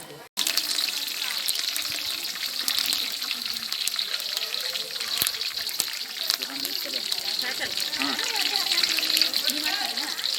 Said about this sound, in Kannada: ನೀರು ಹಾಕ್ತಾರ್ರಿ.